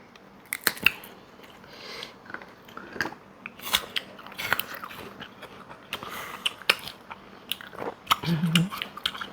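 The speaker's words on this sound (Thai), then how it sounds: "แอปเปิลอร่อยมาก แอปเปิลกรอบมาก" Someone biting and chewing crisp apple pieces, up close: sharp crunches followed by wet chewing in an uneven rhythm, with a few sniffs and brief murmurs.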